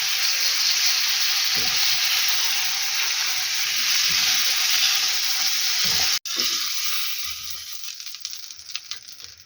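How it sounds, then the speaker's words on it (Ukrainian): Loud, steady sizzling of fish frying in a pan, with occasional stirring scrapes and a brief clack partway through as the sizzle fades slightly. "Отак рибка смажилася трошки."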